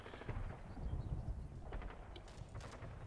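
Gunfire crackles in a village during a Combat Mission war game: scattered sharp shots and short bursts over a low rumbling backdrop, moderately distant.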